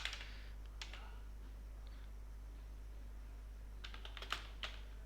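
Faint, sparse keyboard clicks from typing on a computer come in two short clusters at the start and near the end, with a steady electrical hum and hiss between them.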